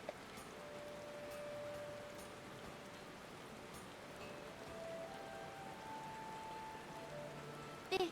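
Steady rain falls in Final Fantasy XIV, a soft even hiss of drops on surfaces with faint tonal game sounds under it and a brief chime at the end.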